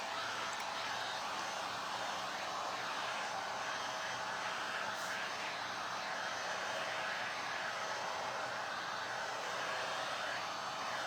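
A hair dryer blows steadily on a painted wooden craft tag, a continuous close whooshing airflow for the whole stretch with no talking over it.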